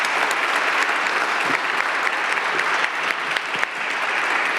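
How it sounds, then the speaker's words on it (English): Audience members at a city council meeting give a warm round of applause, a dense, even roar of many hands clapping that holds steady for several seconds before easing slightly, with no talking over it. "so let's give a warm round of applause for Mayor Pouillet."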